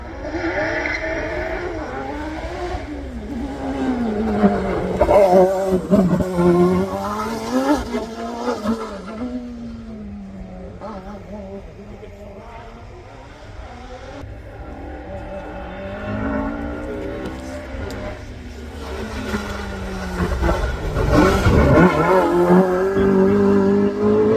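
Hillclimb race car number 57 accelerates hard up the course, its engine rising and dropping through several gear shifts, fading mid-run and then roaring back loud and close near the end.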